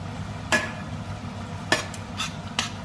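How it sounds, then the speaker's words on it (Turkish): Bread dough made with water, milk and yeast being kneaded by hand in a bowl, with a few sharp knocks and slaps standing out over a low, steady background, no talking. "Sonra yoğurdum."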